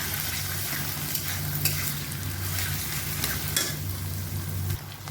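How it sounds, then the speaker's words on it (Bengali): Gobindobhog rice sizzles and rustles as it is stirred and fried in a pan, a steady close scraping with no talking. "এখন এর মধ্যে দিয়ে দিয়েছি গোবিন্দভোগ চালটা এখন এটা একটু ভাজা ভাজা করি"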